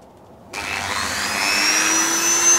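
A Dremel rotary tool starts abruptly after a moment of silence and runs at a steady high whine that climbs slightly in pitch, close and loud, while working on a wooden needlefish lure.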